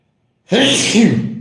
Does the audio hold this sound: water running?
no